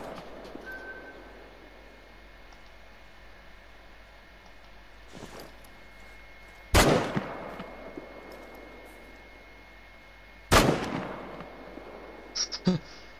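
Rifle shots ring out in the hunting game theHunter: Call of the Wild, with two sharp, loud gunshots several seconds apart over faint ambient background, followed by a few softer clicks near the end.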